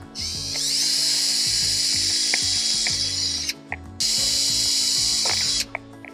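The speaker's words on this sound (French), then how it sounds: "Je vais faire mon perçage ici." A power drill bores pilot holes into a wooden bird feeder. It gives two sustained, loud, high whining runs, each about three seconds long, separated by a short pause with a few clicks.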